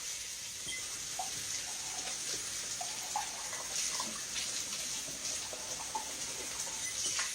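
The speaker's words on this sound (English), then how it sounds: "Let me rinse it out." A cup is rinsed under a running kitchen tap: a steady, soft hiss of flowing water with small splashes and clinks, heard near and without talk.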